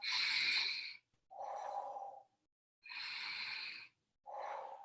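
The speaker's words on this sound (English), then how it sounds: "Breathing deep into that hara." Deep, slow breaths during a combined qigong and yoga practice: two long inhale-exhale cycles, each a hissing breath followed by a lower, throatier one, close and loud with short silences between.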